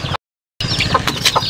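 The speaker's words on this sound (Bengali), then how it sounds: "ছাদে আমি মুরগি রাখি, এখানে কিছু মুরগি আমি পালতেছি।" Chickens kept on a rooftop cluck in short bursts at close range, broken by a brief silent gap, with a few sharper calls toward the end.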